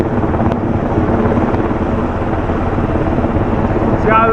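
A Black Hawk helicopter hovers close by, its loud, constant rotor roar and rushing rotor-wash wind filling the whole stretch without letup.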